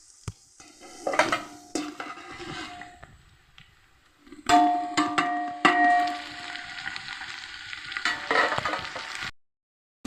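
Tomato pieces go into a pan with frying beetroot and carrot pieces, bringing bursts of sizzling and clattering stirring with metal spoon scrapes against the pan, loud and close, separated by quieter stretches.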